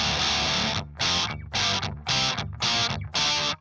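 Electric guitar played through an Airis Merciless distortion pedal with the distortion knob near its lowest setting, giving barely any breakup; six loud strummed chords ring out in steady succession, each cut short before the next, with no talk.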